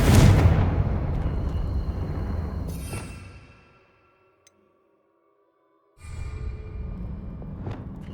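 A Confringo fire spell in Hogwarts Legacy bursts loudly at the start and rumbles away into near silence. A second, softer blast-like swell rises a few seconds later.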